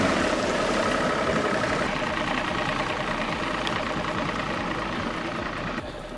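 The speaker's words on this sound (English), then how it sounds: "And start the motor." A boat motor idles steadily and close by, a continuous low rumbling drone with no talking.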